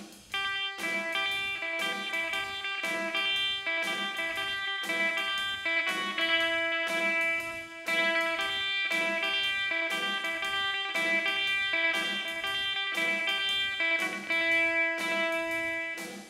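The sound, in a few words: electric guitar playing a song intro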